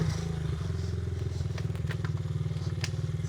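A Honda CRF 50 semi-automatic mini motorcycle idles and revs with a rapid pulsing putter, small clicks and clunks suggesting gear shifts, close and alone.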